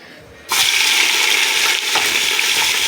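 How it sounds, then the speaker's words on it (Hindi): Chopped onions drop into half a cup of hot oil in a large pot, setting off a sudden loud, steady sizzle that continues to the end with no speech. "अब हम इसमें अपनी प्याज ऐड करेंगे।"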